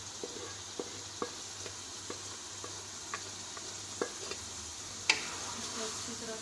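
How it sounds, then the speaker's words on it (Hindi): Boiled dal stirred into a tadka in a pan, with a faint low sizzle and scattered soft spoon taps against the pan, plus one sharper clink near the end. "ये दाल हम इसमें मिक्स कर देंगे।"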